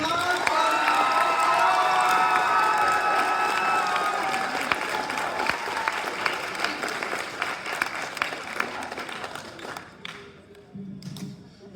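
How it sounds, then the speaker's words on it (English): Applause at a high school awards ceremony: a crowd claps loudly and steadily with cheering mixed in, then the clapping thins and fades out, leaving sparse claps and room noise near the end. "If you all could give her a round of applause."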